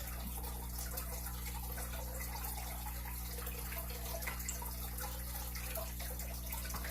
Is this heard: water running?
yes